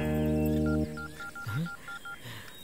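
A phone number is dialed on a telephone keypad: a sustained dial tone, then a quick run of short, evenly spaced beeping key tones with faint background sounds behind them.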